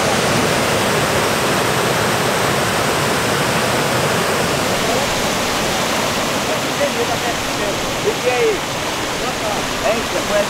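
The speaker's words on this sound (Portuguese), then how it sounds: "A água aqui só faz despejar aqui." Water pours steadily out of a channel in a shrimp and fish trapping setup, a loud, dense rushing roar that continues without a break, with faint voices now and then.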